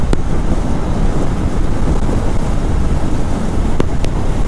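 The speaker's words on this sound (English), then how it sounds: "A bit windy" Steady wind buffeting a microphone, a constant low rumbling roar throughout with no talking.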